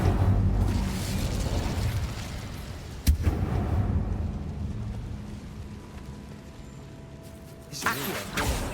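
A fire spell cast in Hogwarts Legacy bursts with a sharp crack near the middle, over a dense rumbling game soundscape, with another swelling whoosh near the end.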